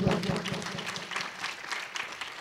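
Applause rises at a Telugu Catholic church sermon, a steady patter of many hands clapping that stays moderately loud across the moment, with a voice faintly present beneath it.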